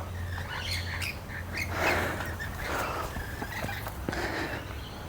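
Rosellas and lorikeets in the Dandenong Ranges give repeated harsh squawks and chirps, some near and some farther off, over a noisy outdoor background.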